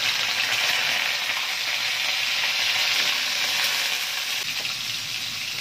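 Liver fries in a pan with garlic and onion, producing a loud, dense, unbroken sizzle throughout with faint stirring underneath and no voices.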